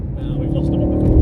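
Synthetic engine burble piped through the cabin speakers of a BMW M135i or M140i hatchback while driving, a steady low rumble with slight surges, mixed with people talking inside the car.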